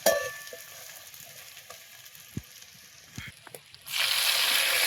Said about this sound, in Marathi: आता याच्यात पाणी वतायचं.